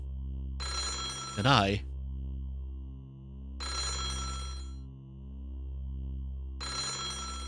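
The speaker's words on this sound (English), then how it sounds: "The sound of ringing echoed through the spacious hall." A telephone rings in a mansion hall in the game Otogirisō, three separate bursts of bright electronic ringing over a low steady drone, with a voice speaking briefly during the first ring.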